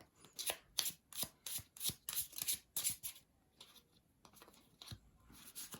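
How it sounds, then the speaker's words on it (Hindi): Tarot cards shuffled by hand in a steady burst of crisp riffling flicks, close and clear, followed by a brief pause and a few softer shuffles, with no voices. "ये सारे कार्ड मैं आपके सामने शफल कर रही हूँ"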